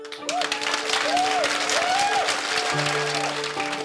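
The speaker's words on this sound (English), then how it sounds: "What did you think when everyone stood up at the end clapping?" A standing audience clapping after a speech, steady dense applause with some tonal musical notes sustained underneath, no talk over it.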